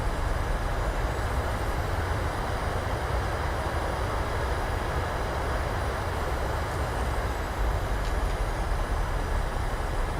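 A PMDG 737-800 in Microsoft Flight Simulator lands with its thrust reversers deployed, one of them faulty. The result is a loud, steady, broadband jet roar that holds unbroken throughout with no talk over it.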